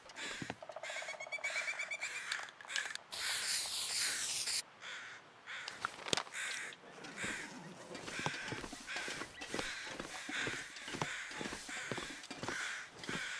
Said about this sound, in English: Can definitely hear some crows overhead